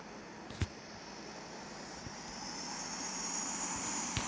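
Airplane engine drone from the Infinite Flight Simulator video game on a flight from Los Angeles to San Francisco, a steady whooshing hum that slowly grows louder, with a few faint clicks on top.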